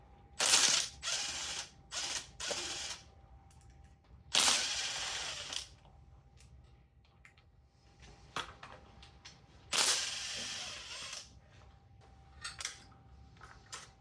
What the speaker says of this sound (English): now I'm going to go ahead and remove the fuel rail. There's 3 bolts that'll require 12 millimeter